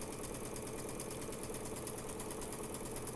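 Steady, fast whirring of a sewing machine chain-stitching flower basket quilt blocks, a continuous close-up mechanical buzz with no pauses.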